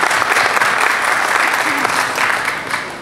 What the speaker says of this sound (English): Let's give a big round of applause for all of our staff.